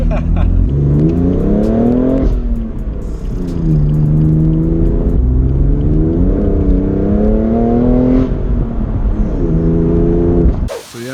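A 2018 BMW M3 F80 Competition revving hard through repeated gear shifts from second to third, loud engine drone rising and dropping in pitch, ending in a sharp abrupt bang at the close.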